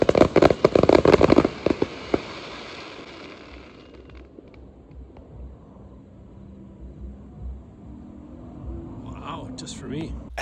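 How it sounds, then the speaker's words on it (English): A burst of fireworks outside a tent in Okinawa crackles and pops rapidly at first, then fades into scattered distant bangs under a low rumbling background. "They even have a fireworks display for me right outside my tent."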